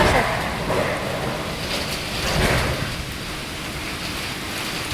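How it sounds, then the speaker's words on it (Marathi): Wind and rain outside keep up a loud, steady broadband rush that swells and eases slightly, with no distinct voices over it. "आता पाऊस आला कमी, आता वारं सुटलं."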